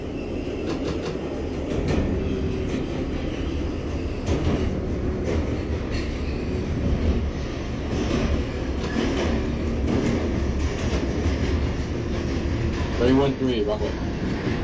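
A simulated New York City Subway R142A 4 train running toward Crown Heights–Utica Avenue, with a continuous rumbling roll, rhythmic clacking over rail joints and a steady ventilation hum, with a brief squeal near the end.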